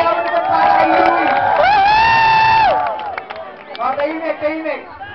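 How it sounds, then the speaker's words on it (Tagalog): A crowd at a comedy skit shouts and cheers loudly for a performer, a swelling burst of excited voices and whoops that fades into scattered chatter. "Sigawan naman para kay Louie!"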